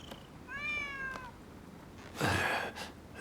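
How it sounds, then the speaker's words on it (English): A stray cat meows in the video game Rise of the Ronin, giving one long, drawn-out call followed by a louder, breathier meow, both standing out clearly against faint background ambience. "Who'd have thought a stray cat would wander in?"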